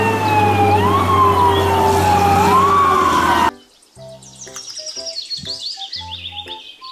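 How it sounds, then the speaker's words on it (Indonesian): A toy fire truck's siren wails loud and close, its tone sweeping up and down, then gives way to a rapid electronic melody of chirping beeps and tones, with no talking. "Mobil truk pemadam kebakaran."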